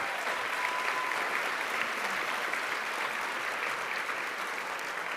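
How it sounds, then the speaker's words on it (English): A conference audience at a housing keynote luncheon claps steadily and warmly, a dense even wash of applause holding at one level from start to finish. "Let's give one more round of applause to Lainey and Gabe."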